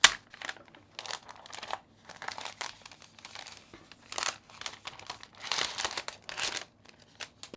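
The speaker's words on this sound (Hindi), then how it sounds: "लगा हुआ है इसके ऊपर ये प्लास्टिक या पेपर वाला फिल्म। चलिए इसको निकालते हैं।" Plastic protective film being peeled and crinkled off an Apple Magic Keyboard, heard as close, irregular bursts of crackling and rustling with short quiet gaps.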